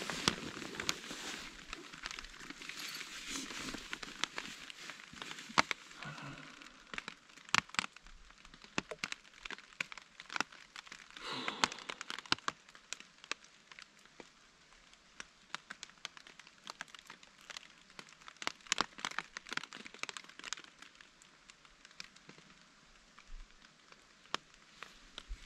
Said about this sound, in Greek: Και ο ήχος της βροχής είναι απίστευτος.